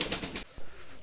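Domestic pigeons kept at a home, a black one among them sitting with a chick, give a short, close, soft cooing call followed by a low throaty coo.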